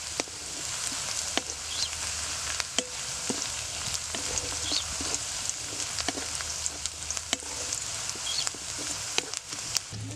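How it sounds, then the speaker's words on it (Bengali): Chopped onion frying in hot oil with nigella seeds for an amudi fish curry, a continuous loud sizzle and crackle broken by sharp spatula clicks against the pan, no talking. "তেলটা আমার গরম হয়ে গেছে, আমি ফোড়নে দিচ্ছি কালো জিরা, দিয়ে দিব এর মধ্যে পেঁয়াজ কুচি।"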